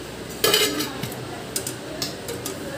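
Oil poured into a pan on a gas stove while making keema kachori stuffing, heard as a brief close pour and sizzle with a few metal clinks of pan and utensil, in a quiet kitchen with no talk.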